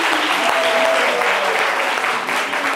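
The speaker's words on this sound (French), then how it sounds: "On peut l'applaudir très," Steady, loud applause from an audience at a live talk show event, dense continuous clapping with faint crowd murmur underneath.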